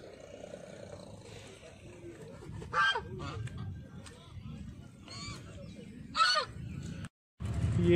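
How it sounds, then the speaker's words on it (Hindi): Ducks quack and honk in short loud bursts at the Brahma Sarovar lake in Kurukshetra, several calls close by, over a murmur of people talking nearby. "इस साइड है डक"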